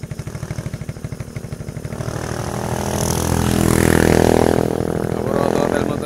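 A motorcycle engine idles with a rapid, regular putter, then revs up into a louder, rising roar that holds near and strong before easing slightly toward the end.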